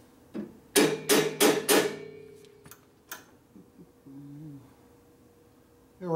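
Four sharp metal hammer blows in quick succession ring out close by, then a few lighter taps and clinks, while parts of a 1967 Harley-Davidson 74ci Shovelhead FLH are assembled during a transmission rebuild.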